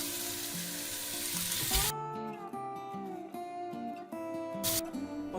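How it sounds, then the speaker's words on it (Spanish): Diced cuttlefish frying in a pan, a steady hiss that cuts off abruptly, leaving a quieter clatter, scraping and gentle bubbling, with a short burst of sizzle returning near the end. "en tres tandas ya he podido sofreír bien toda la sepia"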